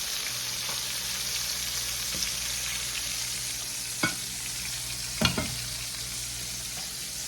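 Chicken livers fry steadily in a hot pan, giving a continuous broadband sizzle with a low hum beneath and a few sharp clicks and taps from a utensil partway through. No one speaks.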